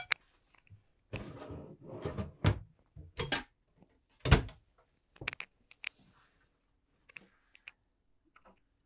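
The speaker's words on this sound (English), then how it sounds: "just press down and pull the door closed, and it will latch" An RV's sliding door in a 2024 Newmar Bay Star motorhome being pulled shut and latched, with a run of close scraping and thudding clunks followed by a sharp latch click and a few faint taps.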